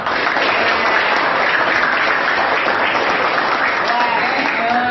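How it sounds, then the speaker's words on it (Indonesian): A classroom of students applauding together, dense continuous clapping that holds at a steady loud level from start to finish, with no talk on top. "tepuk tangan buat semuanya"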